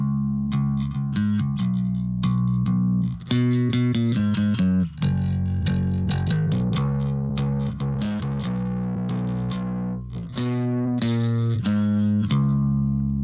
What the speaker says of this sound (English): let me go back and so we get the full distortion